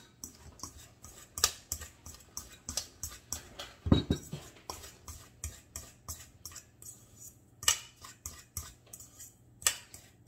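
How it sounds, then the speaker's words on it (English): A fork scrapes and taps in a bowl, mashing a graham cracker pecan crust mixture with butter, in irregular close clinks and scrapes spread over ten seconds. "I'm going to use a fork to mash this all together"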